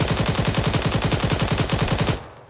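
A 7.62 rifle in Arma 3 fires a rapid, even burst of about two dozen sharp shots at an ammo box, then cuts off abruptly into quiet.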